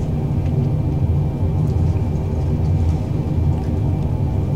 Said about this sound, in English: This is Orange County John Wayne Airport, KSNA, and we're on runway 20R.